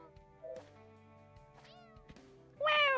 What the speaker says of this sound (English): Wait, was this a cat?